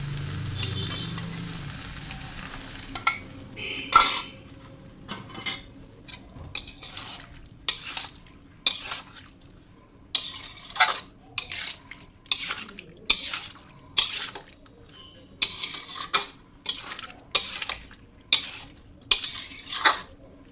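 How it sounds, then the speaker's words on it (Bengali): A spatula works a cooked dish around a pan just after boiled milk has been poured in. It makes a regular series of close scraping clanks over a soft bubbling sizzle. "এবার ভালো করে নাড়াচাড়া করে নামিয়ে নেব।"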